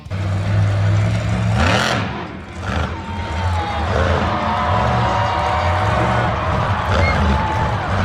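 A monster truck engine revs hard as it reverses, a loud, rough mid-range roar that rises and falls in pitch with whirring drivetrain whine and faint crowd noise behind it.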